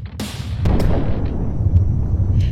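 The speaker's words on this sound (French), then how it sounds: "Le bruit du choc résonne à travers toute la cabine. Une explosion de métal, une déflagration violente." A violent metal explosion aboard an Aloha Airlines airliner: a sharp loud bang followed by further impacts and a heavy, sustained roaring rumble that fills the rest of the sound, with no talk.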